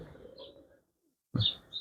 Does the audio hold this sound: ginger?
no